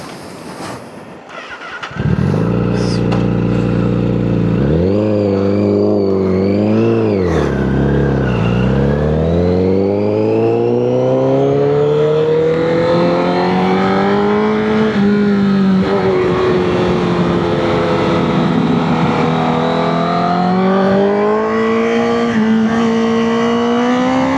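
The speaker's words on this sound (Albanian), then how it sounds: "tani është koha që ta provojmë në krap këtë motorin" A Honda CBR 1000 RR sportbike on a test ride, its engine idling briefly then roaring and revving up through rising pitch, dipping and climbing again as it accelerates, loud and close with a sustained high-pitched wail.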